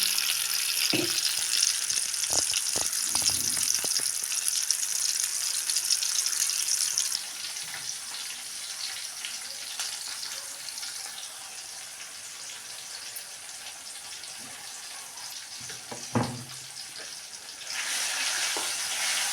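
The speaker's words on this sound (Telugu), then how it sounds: "ఈ పల్లెతో కొంచెం ఇప్పుడు తాలింపు కూడా వేసుకుంటున్నాను" Tempering sizzling in a pan for semiya upma, a steady hiss of hot oil frying that runs throughout, with a few short clatters and taps of utensils along the way.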